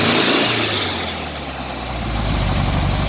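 A car engine with loose cylinder heads and oil leaks runs close by, a loud steady rumble that dips briefly and then swells again as it revs up.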